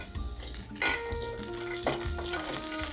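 An onion rubbed over a hot Korean barbecue grill for LA galbi short ribs, a continuous close sizzle with scraping strokes and some tonal ringing of the grill plate, no talk.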